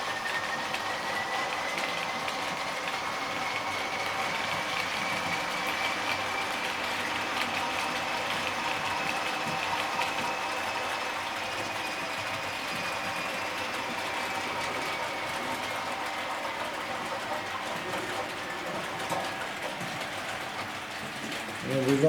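A Class 37 diesel locomotive in BR blue working a passenger train, a steady low engine drone with a rising and falling whine, heard at a moderate distance throughout.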